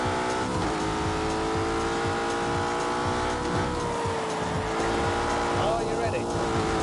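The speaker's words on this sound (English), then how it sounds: "Then we come to the engine. It's a 4-litre V8. It has twin turbos." A twin-turbo 4-litre V8 producing 510 horsepower in The Grand Tour racing video game, droning steadily at a sustained engine pitch with slight revving shifts throughout.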